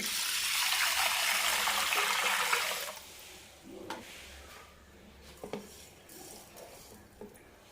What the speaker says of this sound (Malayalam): അതിനുശേഷം മൂന്ന് കപ്പ് വെള്ളം ഒഴിക്കാം